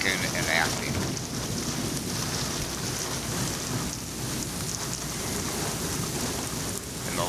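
Steady heavy rain pours down with a constant hiss, while low rumbling thunder rolls underneath.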